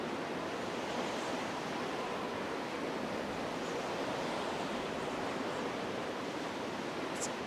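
Continuous broadband rush of water in the video game Zelda: The Wind Waker on Dragon Roost Island, a steady surf-like wash that holds at an even level throughout with no voices.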